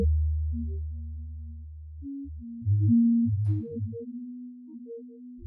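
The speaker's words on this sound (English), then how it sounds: "it's kind of like a nice sine wave tone, right? But it's moving around in pitch a lot." A pure sine-like synth tone made in Pigments from a processed piano sample glides and jumps between pitches, low sustained notes giving way to higher wobbling ones, clean and isolated.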